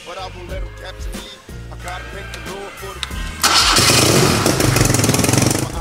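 An old café racer motorcycle engine cranking with repeated starter churns before catching and roaring into a loud, steady idle, close up.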